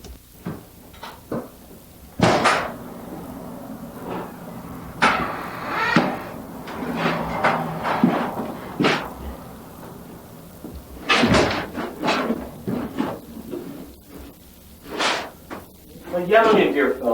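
A door swings open in an old house in a 1993 drama, with wooden knocks, creaks and thuds spread over a spoken scene.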